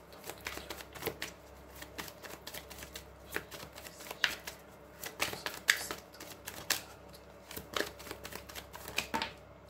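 Tarot cards are shuffled by hand in quick, crisp riffling bursts and taps, close and continuous with an uneven rhythm, and no one speaks.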